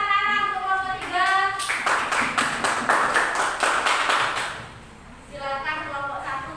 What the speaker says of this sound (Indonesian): Beri tepuk tangan anak-anak untuk kelompok 3